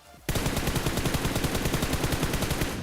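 Sustained automatic gunfire in the mobile battle royale game BGMI (PUBG Mobile) starts abruptly after a quiet moment and rattles on as a rapid, loud, evenly spaced burst of shots through to the end.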